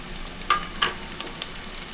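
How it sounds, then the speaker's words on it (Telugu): Chopped onions and curry leaves frying in a pan, with a faint steady sizzle broken by two sharp crackles and a smaller pop, heard close with no voice. "ఇప్పుడు కట్ చేసుకున్న ఆనియన్ వేసుకోవాలి కొంచెం కరివేపాకు"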